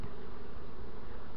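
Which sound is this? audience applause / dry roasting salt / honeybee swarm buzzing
honeybee swarm buzzing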